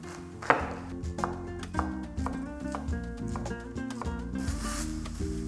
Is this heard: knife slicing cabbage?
yes